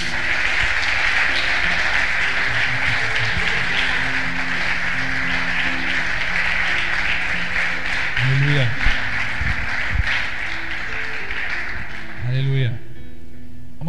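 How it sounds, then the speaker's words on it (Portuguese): A church congregation applauds Jesus in a long, steady wash of clapping mixed with voices and brief vocal exclamations, filling the room throughout. "Um forte aplauso a Jesus"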